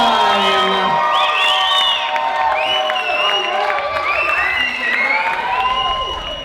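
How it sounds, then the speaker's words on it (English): Loud wedding crowd applauding and cheering for newlyweds, with whoops and high shouts rising over continuous clapping, gradually tapering. "I want to hear one more huge round of applause for your newlyweds, John and Katelyn, Mr. and Mrs. Bang!"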